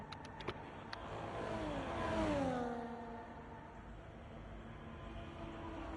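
A Formula 1 race car engine on a lap in a video game, a faint whining pitch sweeping down as it passes, then a low steady drone, preceded by a few sharp clicks.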